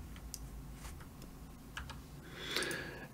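Keys clatter on a computer keyboard while a procedural wall paint shader is set up in Blender, with scattered quick taps and a brief faster burst near the end, close and moderately quiet.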